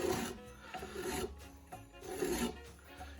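A tool rasps across a pen blank spun by hand on a lathe, cutting a spiral. It makes rough, scraping strokes that swell and fade back and forth at close range.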